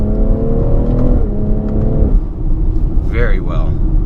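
2018 BMW X3 M40i, the M version with all-wheel drive, accelerating through a corner: a steady engine drone with a held note that shifts pitch midway, followed by tire or wind noise and someone talking over it.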